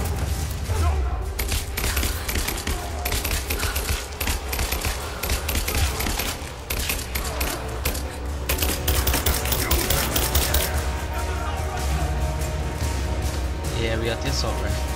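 Rapid, dense assault rifle fire in Rise of the Tomb Raider, a loud unbroken rattle of shots lasting throughout with a voice talking over it.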